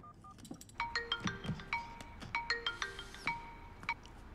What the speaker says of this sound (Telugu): ఇగో సీఏకు ఫోన్ కొట్టు.